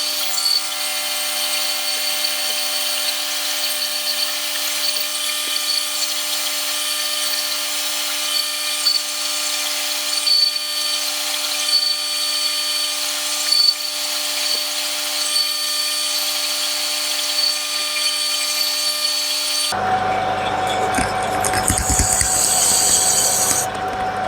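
A machine tool makes a 0.2 mm cut on a rear cylinder cover. It gives a steady, high, tonal whine with a faint hiss for about twenty seconds, then cuts off into brief clattering handling noises.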